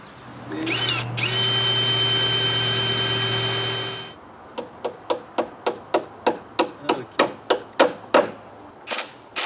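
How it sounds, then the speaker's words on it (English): A power drill whines steadily for about four seconds while bolting a wooden trailer floor, then about a dozen sharp, evenly spaced mechanical knocks follow in a fast regular rhythm, close and loud. "Bolting the floor is not as straightforward as bolting the sides, but we manage anyway."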